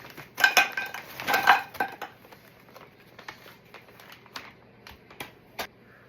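Frozen Ajinomoto pork gyoza set into a frying pan, a cluster of light clinks and taps followed by scattered faint knocks and rustles, close but soft.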